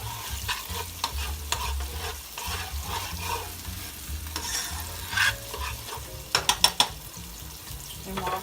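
Minced garlic frying in a pot for a one-pot weeknight meal, a close, continuous sizzle with scraping stirring strokes and a cluster of sharp clinks near the end, no voices.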